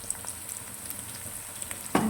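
Onion and garlic sizzle in hot oil in a kadai, a steady close, soft crackling hiss with a louder burst of frying near the end.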